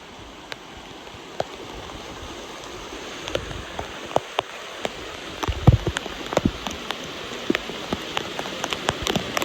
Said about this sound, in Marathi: पण आज लयच पाऊस